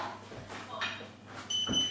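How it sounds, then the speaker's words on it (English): Workout interval timer giving a thin, high electronic beep near the end, faint against room noise and scattered movement sounds. "There's our timer."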